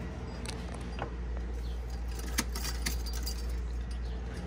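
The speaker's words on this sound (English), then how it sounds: "Linda will turn the ignition on" Keys jangle and click as the ignition key is turned in a 1973 Mustang convertible, a few faint metallic taps against a steady low background hum.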